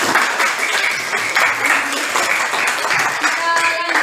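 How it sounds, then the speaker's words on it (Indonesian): A class claps for the first group after its presentation, a dense, steady round of applause with some voices mixed in. "Tepuk tangan untuk kelompok 1"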